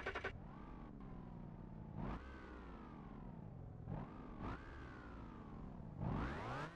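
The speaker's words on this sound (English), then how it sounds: "The car handles exactly the way it should in BeamNG.Drive and has unique sound" A JDM car engine in the BeamNG.Drive racing game revs up through several gears, each rising pitch sweep cut by a quick shift, loud and close with no talking.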